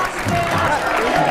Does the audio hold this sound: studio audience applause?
yes